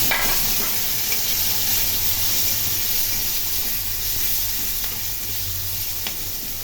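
Onion and green chili fry in a pan of oil with bay leaf, cumin and garam masala, giving a steady, close sizzle with faint stirring scrapes and no voices.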